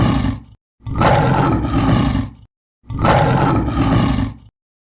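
A lion gives two long, loud roars with a brief pause between them. Each roar is deep and rumbling and carries strongly up close.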